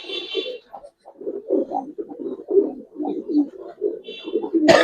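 Giribaz coloring pigeons coo close by in a run of soft, throaty, rounded calls with short gaps between them, while faint higher chirps sit in the background.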